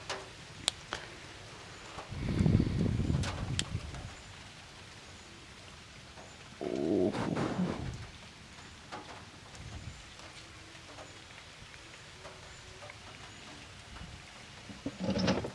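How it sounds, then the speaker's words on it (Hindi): Steady rain falling in a room, with a continuous patter and drip ticks and several louder bursts of heavier downpour or gusts, and no voices. "ये बारिश का पानी भी ना"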